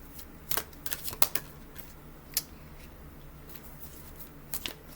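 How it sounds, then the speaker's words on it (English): A deck of cards being shuffled, crisp riffling bursts clustered near the start and middle with a final flurry at the end, close and clear with no talking. "Give this a shuffle."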